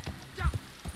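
Horse hooves in the video game Red Dead Online clop a few times in quick succession, mixed with a soft snort, fairly close and moderately loud.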